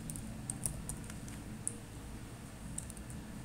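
Computer keyboard typing Arduino code for a 16x2 LCD, a few faint, sparse key clicks over a steady background hum, without speech.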